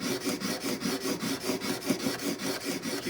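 A plane iron clamped in a honing guide is pushed back and forth on a sharpening stone, giving a steady rhythmic scraping rasp with about a dozen strokes, close and alone.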